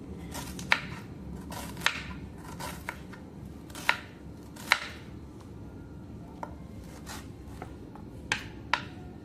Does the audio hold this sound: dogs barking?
no